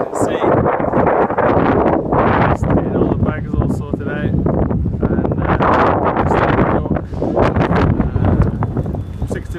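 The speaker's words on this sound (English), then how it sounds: "It's very, very windy." Strong wind buffets the microphone at a harbour beside the expedition ship Plancius bound for Antarctica, loud continuous rumbling gusts with a person talking throughout.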